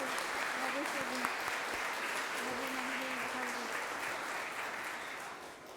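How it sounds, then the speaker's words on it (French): A church congregation at an Epiphany Mass applauds in a dense, sustained wash of clapping that fills the space, with faint voices underneath, easing slightly toward the end. "levez-vous, qu'on vous applaudisse"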